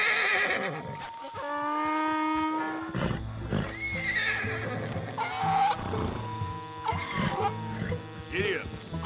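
A horse in a PS4 video game gives a long, clear whinny, then snorts and stamps amid game ambience, with a rider's voice coaxing it along.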